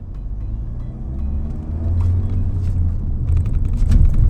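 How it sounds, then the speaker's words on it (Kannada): Diesel engine noise fills the cabin of a Mahindra XUV700 on the move, a steady low rumble that swells a little louder toward the end. "ಸ್ವಲ್ಪ ಕ್ಯಾಬಿನ್ ಒಳಗೆ ನಾಯ್ಸ್ ಬರೋದು ನಾರ್ಮಲ್, ಯಾಕಂದ್ರೆ ಡೀಸೆಲ್ ಗಾಡಿ ಐತಿ"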